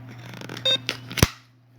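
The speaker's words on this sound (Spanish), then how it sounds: "Voy a sacar el celu de acá." Mobile phone being taken out and handled close up, a few light clicks and rustles with one sharp knock near the end, brief and fairly faint over a steady low hum.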